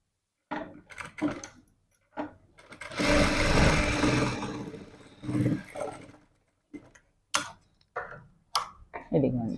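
A sewing machine stitches cloth along a marked line, running in one sustained burst of whirring mid-clip with short starts and stops around it, while a person talks intermittently.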